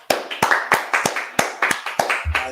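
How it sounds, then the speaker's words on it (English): Rhythmic hand clapping by an audience at a class, sharp claps spaced evenly about every third of a second, close and fairly loud, with a brief low rumble near the end. "All right, clap it up."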